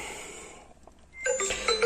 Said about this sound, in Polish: Chyba za dużo nie narobię, bo co chwilę telefon dzwoni.